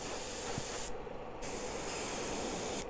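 An airbrush sprays Laguna Blue paint in a steady, close hiss over a lipless crankbait, breaking off briefly in the middle before resuming.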